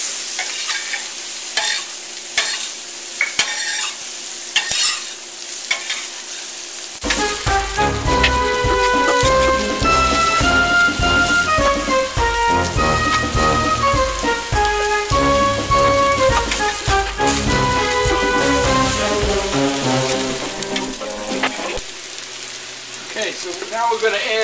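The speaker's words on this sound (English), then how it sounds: "I'm going to fry those up a little bit, and I'm using some butter and canola oil" Peppers and onions fry in butter and canola oil with a steady crackling sizzle and occasional stirring, continuous and close, while melodic background music plays over most of it.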